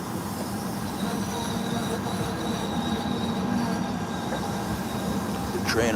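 A train rolls through downtown Los Angeles with a loud steady rumble of wheels and cars and a faint wheel squeal, while people chat in the background.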